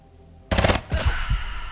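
Gunfire in the video game Quasimorph, a sudden loud burst of rapid shots followed by two more short volleys, close and sharp with no talk.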